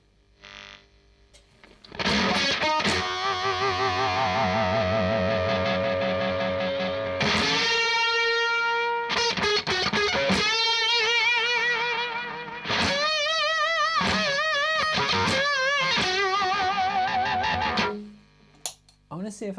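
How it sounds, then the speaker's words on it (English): An electric guitar played through a Roger Mayer Octavia octave fuzz pedal rings out in loud, sustained fuzzy notes with bright upper-octave harmonics, several phrases with short breaks between them, each note decaying into ringing harmonic tones. "Octavia tones, like literally harmonic tones"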